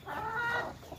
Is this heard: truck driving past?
no